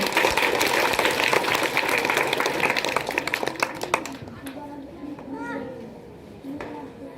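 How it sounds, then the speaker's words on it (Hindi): Applause from an assembled crowd at a middle school convocation ceremony greets a class 4 student who won second place; dense clapping fills about four seconds, then fades as voices, including a child's, talk over it. "मुस्कान कुमारी के लिए ताली बजनी चाहिए।"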